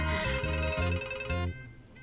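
A phone ringtone plays a bright, repeating electronic melody in steady pulses, loud and close, then cuts off partway through and leaves a quieter tail.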